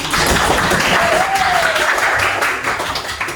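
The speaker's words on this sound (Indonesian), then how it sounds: "tepuk tangan untuk Ingrid." A group claps in applause for a student at a school anti-bullying session, a dense, steady patter of hands filling the moment with a faint voice or whistle tone drifting through.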